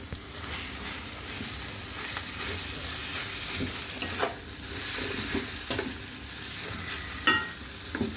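Boiled, salted fish is stirred into spice paste frying in a pan: a steady close sizzle with repeated scraping stirs and a few sharper knocks, no talk.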